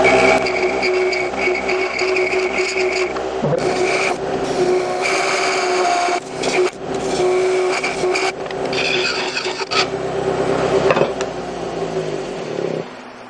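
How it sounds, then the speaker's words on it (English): A carbide cutter shear-scraping an aluminum Christmas ornament on a lathe gives a steady, close, harsh rasping scrape that runs almost continuously, with a few brief breaks and shifts in tone. "I'm using the carbide cutter in a shear scraping mode to get a little bit finer cut on there."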